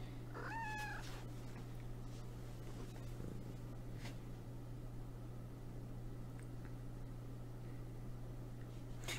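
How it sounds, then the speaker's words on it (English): A cat lets out a short, close meow right at the start, then stays quiet over a steady low electrical hum with a few faint clicks and small noises. "Featuring my kitty cat."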